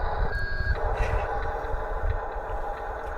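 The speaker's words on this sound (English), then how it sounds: "I've started the truck sound, and it's just identical to the old trucks" Engine sound module of a Huina 1598 RC dump truck giving a steady synthetic truck-engine drone with low rumble, plus a brief electronic tone near the start, close and continuous.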